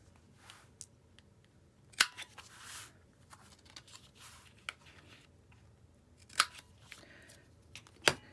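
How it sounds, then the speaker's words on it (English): A handheld paper corner punch snapping through paper corners for a junk journal, with three or four sharp crisp clicks spaced apart amid soft paper rustling, close and fairly quiet. "I'm going to use this type of punch for the corners."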